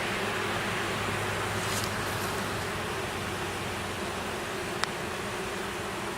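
Honey bees drone around comb inside an open hive during installation, a steady dense buzz filling the whole stretch with one brief sharp tick near the end.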